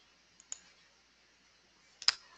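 Two sharp computer mouse clicks, one near the start and a louder one near the end, alone against near silence in a quiet room.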